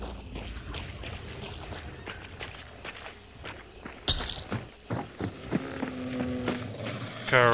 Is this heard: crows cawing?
no